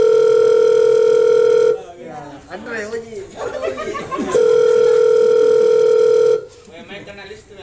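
A phone call's ringback tone sounds as a steady, loud tone in two long bursts, with chatter and laughter from people in between.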